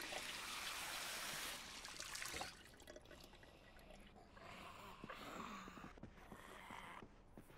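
Faint trickling and sloshing of liquid as a character drinks water in the zombie survival game Project Zomboid, running softly and unevenly for several seconds with no voices.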